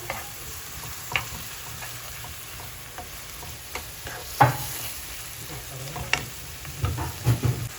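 Chopped tomato gets stirred into a sizzling pan of filling, with a soft frying hiss running under scattered spoon scrapes and a cluster of clinks toward the end; nobody speaks.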